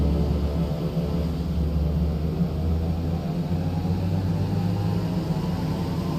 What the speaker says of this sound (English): we're going to bring the prop RPM up to about 2050